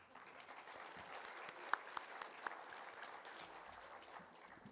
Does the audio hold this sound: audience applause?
yes